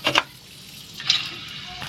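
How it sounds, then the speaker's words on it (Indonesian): Garlic and candlenuts fry in a pan with a steady, soft sizzle, broken by a few brighter crackles and scraping clinks of a utensil, with no talking. "Kemudian selanjutnya ini untuk bawang putih kita goreng, kemudian kemiri juga kita goreng."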